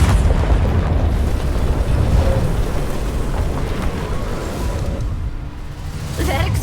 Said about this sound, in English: That explosion was wild.